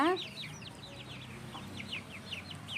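Chickens and growing chicks cluck and cheep, a string of quick high peeping calls with lower clucks underneath, soft and close in a quiet coop.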